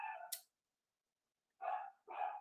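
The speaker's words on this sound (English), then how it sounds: "pardon my dog" A dog barks three times, one short bark, a pause, then two quick barks in a row, close and clear against silence.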